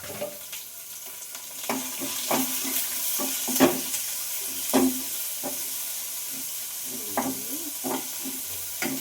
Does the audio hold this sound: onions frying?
yes